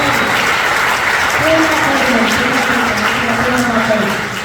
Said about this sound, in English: let's give them another big round of applause there, right now